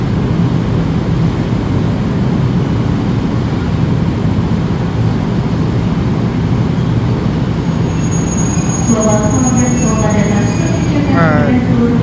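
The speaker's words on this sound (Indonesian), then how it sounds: "ini ternyata kereta KRL-nya tipe JR205 teman-teman ya" A JR 205 series KRL electric commuter train rumbles steadily close by, with metallic wheel squeals rising toward the end and voices murmuring underneath.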